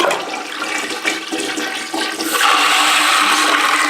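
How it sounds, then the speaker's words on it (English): A rebuilt 1950s toilet flushes up close, the rush of water starting steadily and then swelling into a louder, continuous roar as the bowl empties and refills, with no voices. "So now when we flush,"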